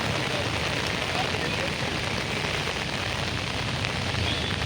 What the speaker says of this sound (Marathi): पाऊस आलेला आहे. पाऊस आला बघा